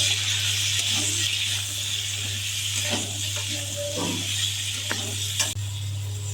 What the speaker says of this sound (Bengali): নুন হলুদ দিয়ে দিচ্ছি। এবার ভেজে নেব সমস্তকে।